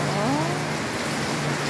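Heavy rain pours outside a house and its gate, a steady, dense hiss that fills the whole stretch without pause, with no voices over it.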